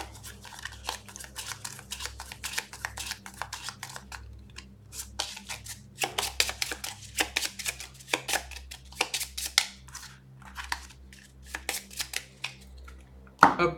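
Cards for the board game Maximum Apocalypse being shuffled by hand, with rapid riffling and flicking bursts throughout, soft and close with brief pauses.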